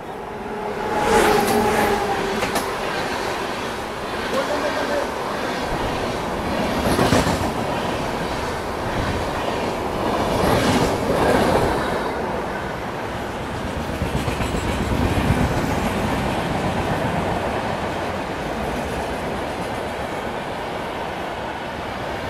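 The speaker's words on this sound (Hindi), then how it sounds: "भाई ये निकली यहाँ पे स्वर्ण मंदिर मेल" The Swarna Mandir Mail passenger train rushes past on the Indian railway line, a loud, steady roar of wheels and rattling coaches with rhythmic clickety-clack surges throughout, no voices heard.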